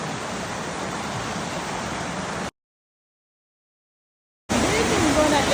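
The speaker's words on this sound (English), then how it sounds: "in the middle is a river" A river flowing through a picnic spot in a natural valley, a steady broadband rush of water heard close and constant, cut by a short silent gap before the rushing resumes.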